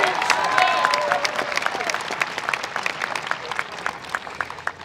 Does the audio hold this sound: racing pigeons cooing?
no